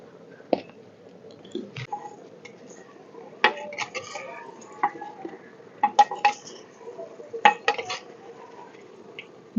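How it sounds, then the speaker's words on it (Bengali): The lid of a handi cooking pot holding chicken comes off with scattered, close metallic clinks and clanks against a quiet background. "এখন আমি হাড়ির ঢাকনাটা একটু খুলে দেখবো ভেতরে কেমন অবস্থায় আছে"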